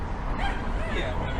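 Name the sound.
dog barking and yipping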